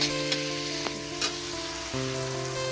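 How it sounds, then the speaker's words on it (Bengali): Onion, tomato and potato sizzling steadily in hot oil in a pan, a close, even frying hiss with occasional soft stirring clicks and no talk. "এখন পেঁয়াজ, টমেটো, আলু ভালোভাবে ভাজা হয়ে গেছে"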